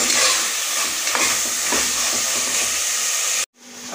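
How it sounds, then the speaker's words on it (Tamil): Vegetables boiling in a cooking pot give off a steady, loud steaming hiss with faint bubbling, which cuts off abruptly near the end. "இப்போ காய் வந்து வெந்துட்டுருக்குது, நல்லா வெந்துட்டுருக்கோம்"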